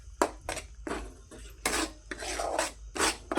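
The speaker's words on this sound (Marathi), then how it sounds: "असं हलवून घेऊ." A spoon scrapes and clatters against a pan while paneer masala with amsul powder is stirred, making a series of quick, close, irregular metallic strokes.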